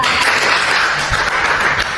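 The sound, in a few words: class applauding a student named Nara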